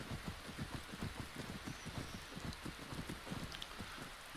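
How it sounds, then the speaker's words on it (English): Steady rain falling in the Skyrim video game, with sunlight still breaking through. Soft, even patter with a few droplets popping out, faint and continuous throughout. "It's always strange when the sun is shining a little bit, but there's rain coming down."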